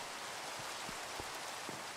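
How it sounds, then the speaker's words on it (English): Rain falls steadily at night in the Minecraft game, an even hiss of close, continuous downpour with a few soft drop taps and no voices. "Oh, it's raining."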